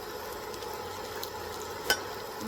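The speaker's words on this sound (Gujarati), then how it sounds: "પરાઠું એમાં શેકી લઈએ. તવેથાની મદદથી ઉપર બધે તેલ આપણે ફેલાવી લઈએ" A bottle gourd paratha frying in oil on a griddle as a flat spatula spreads oil over it, a quiet even sizzle with one brief scrape near the end, no voices.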